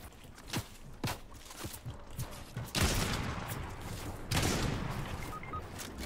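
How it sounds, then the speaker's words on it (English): Fortnite gunfire: scattered single shots in an irregular rhythm at first, then two louder, denser bursts nearby with footsteps and movement noise in between. "We're getting shot by another team."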